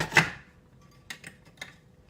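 A knife dices lettuce on a cutting board: one sharp chop, then a short pause and three lighter, quick cuts, quiet and close, with no speech.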